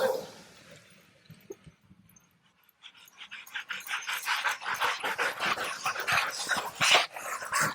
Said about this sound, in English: You can hear them barking quite a distance away,